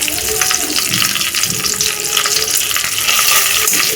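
Fenugreek seeds frying in a small amount of oil in a pan while sambar is made: a steady, loud hiss and sizzle running continuously throughout.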